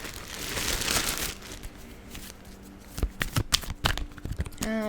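Tarot cards being shuffled by hand, a broad papery riffle in the first seconds followed by a run of sharp, uneven card snaps and taps close up, with no talking.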